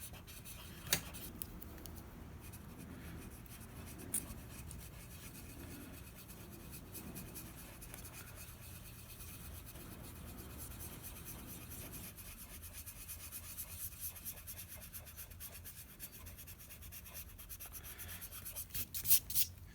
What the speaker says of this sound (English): I'm just going to come back and scribble in like in figure 8 motions with my eraser.